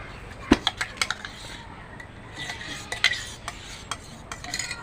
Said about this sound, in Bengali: আমি টক দই দিয়ে মাংসটাকে মাখিয়ে 10 মিনিট রেখে দেব